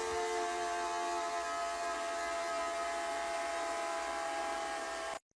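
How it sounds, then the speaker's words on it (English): A household toilet gives off a steady, loud, train-like rumbling drone with sustained tonal hums, running continuously and then cutting off abruptly near the end. "Can somebody tell me why my toilet sounds like this?"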